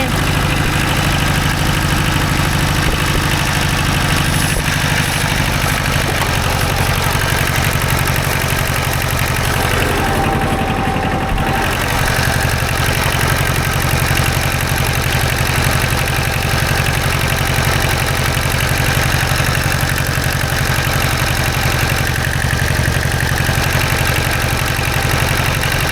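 A 1970s Kubota L185DT tractor engine idles steadily outdoors in the cold, a continuous low rumble with a faint mechanical knock that holds even throughout, with no one talking.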